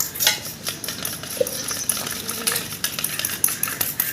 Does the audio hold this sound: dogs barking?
no